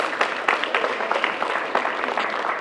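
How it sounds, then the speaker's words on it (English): An audience applauds at a Washington DC mayoral program launch event in Ward 7, a sustained crowd clapping with dense irregular hand claps held at a fairly even level for the whole stretch. "Applaud for that."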